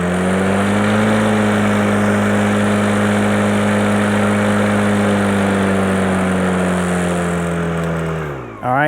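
A battery-powered lawn mower runs loud and close with its blade engaged, holding a steady motor whine for several seconds before winding down at the end.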